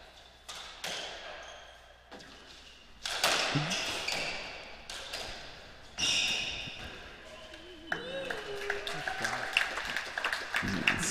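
Crowd applause and cheering at a racquetball semifinal, with bursts of clapping rising between ball thuds and court squeaks, a moderately distant, reverberant crowd in an indoor court, with a commentator's voice over it at times.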